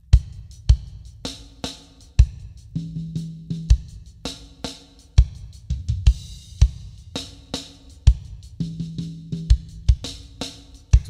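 Drum kit groove with constant single strokes on the hi-hat and snare backbeats over kick, played steadily and loud with no talking.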